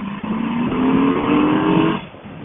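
A Harley Davidson motorcycle rides around a parking lot, its engine a loud, close, steady rumble with a droning pitch that rises slightly and then drops away abruptly near the end.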